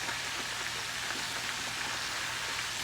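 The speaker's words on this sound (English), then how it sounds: "we're going to continue to cook our chops" Pork chops fry in a pan, giving a soft, even hiss of spattering grease that stays constant and fairly quiet throughout, with no voices.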